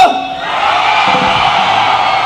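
A rally audience roars with loud, sustained shouting and cheering, whoops and yells blending into a dense wall of crowd noise that holds steady throughout.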